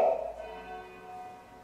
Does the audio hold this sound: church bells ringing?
yes